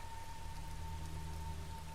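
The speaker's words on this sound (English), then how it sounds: "it's now under a torrential downpour" Steady, dense rain pours down as an even, continuous hiss of drops on surfaces, with a low hum and a faint tonal drone underneath, no voices and no breaks.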